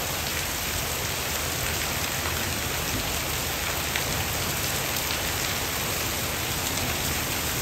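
Heavy rain pours down steadily in a village, a dense, even hiss of drops striking surfaces, with no voices or other sounds.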